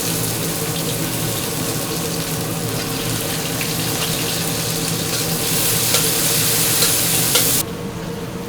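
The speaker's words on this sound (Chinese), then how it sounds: "然后我们就要爆香那个红葱跟蒜米。" Shallots and garlic fry in oil in a wok, giving a loud, steady, dense sizzle that holds unbroken for several seconds, briefly brightens near the end, then drops lower, with no talk.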